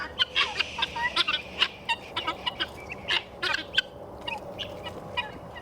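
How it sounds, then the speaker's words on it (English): Turkeys and other fowl gobbling and clucking around a farm, a lively cluster of repeated bird calls in short bursts, fairly close, with no talking. "Hey, all the birds came up."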